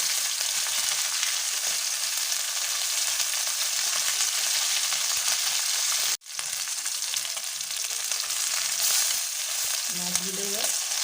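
Fish sizzles lightly in hot mustard oil in a kadai, a continuous close frying hiss that cuts out briefly midway, then resumes, with a faint clink near the end.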